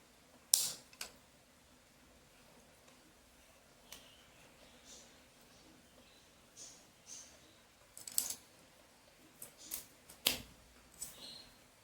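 Scissors snipping material to size for a homemade cage, a few sharp isolated clicks and cuts spaced irregularly, faint and close in a quiet room.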